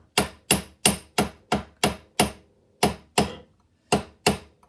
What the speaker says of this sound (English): brass hammer is nice because you can hit it hard